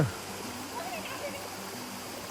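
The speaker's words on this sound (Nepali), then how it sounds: "यहाँ यस्तो झरना छ" A waterfall gives off a steady, continuous rushing roar that stays even and unbroken throughout, with a voice faintly present beneath the water noise.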